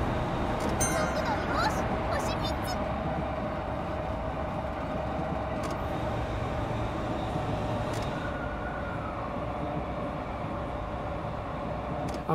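A train in the Densha de GO game on PS4 runs with a steady low rumble and rolling noise, with a few brief clicks and chimes over it.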